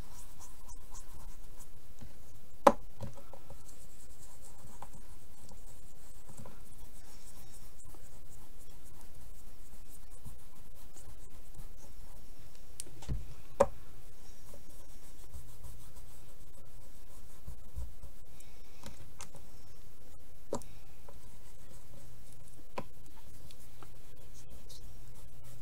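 Soft pastels being blended and rubbed on paper for a watercolour dragon card, a quiet continuous scratchy rubbing close up, with a couple of faint taps and no talk.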